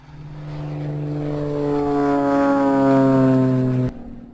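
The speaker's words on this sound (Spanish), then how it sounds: "Este es el sonido de un pequeño avión a gasolina despegando." A small gasoline-powered propeller airplane takes off, its engine drone rising steadily in loudness and pitch over about four seconds before cutting off abruptly, heard alone and fairly close.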